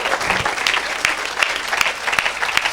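A worship audience applauds and cheers for Jesus Christ at an evangelical gathering, a dense steady wash of clapping with sharper individual claps standing out, sustained throughout.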